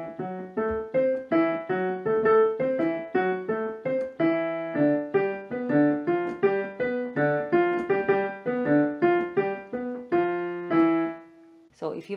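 Solo piano plays a repeating four-note salsa montuno, a bright syncopated pattern of short stacked chords and octave notes in a steady, bouncy rhythm, close and clear with no accompaniment.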